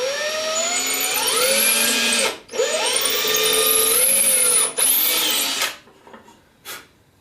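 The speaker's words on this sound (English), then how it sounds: "I've drilled one hole already. Let me put the second one in" Power drill boring a second hole through a wooden kitchen drawer front, whining in two close, steady runs with pitch dips as the bit bites, then brief trailing spins at the end.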